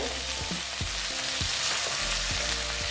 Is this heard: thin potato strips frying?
yes